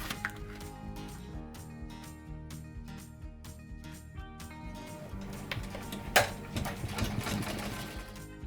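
A sewing machine stitches the outline of a quilt panel, a steady rapid mechanical chatter of the needle running continuously, then a louder thump and busier whir near the end, close and alone without talk.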